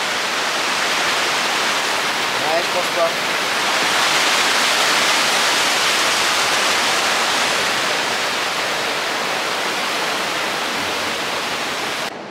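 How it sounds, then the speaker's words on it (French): An artificial waterfall inside a tourist cave attraction in Kuala Lumpur gives a constant, broad rushing hiss that swells slightly midway, with a brief spoken exchange nearby. "Une cascade tout sauf naturelle."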